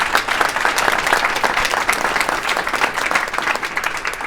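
Audience applause at a school athletics meeting hosted by the Santa Monica school district and education foundation: a sustained, dense burst of clapping from a room of people, loud and steady throughout with no talking over it.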